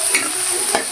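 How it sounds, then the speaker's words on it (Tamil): Onions sautéing in a hot pan: a steady, close sizzle with brief stirring scrapes, no voices. "வெங்காயம் நல்லா வதக்கிக்கணும்."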